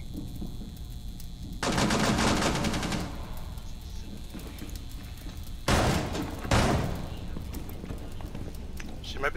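Gunfire in Rainbow Six Siege, bursts of rapid automatic shots in two or three separate volleys against a low ambient background, moderately loud and fairly close.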